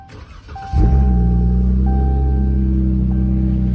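A Dodge Charger GT's engine cranks briefly, then fires and settles into a loud, steady low idle rumble with a faint whine on top, heard close through an open car door.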